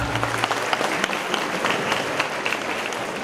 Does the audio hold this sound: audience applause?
yes